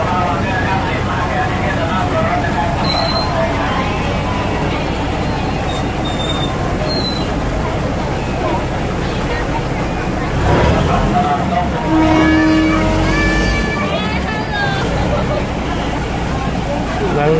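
A train arriving at Mae Klong station in Thailand, a continuous rumble of rolling carriages with squealing wheels and a brief tonal whine near the end, under a steady background of crowd chatter.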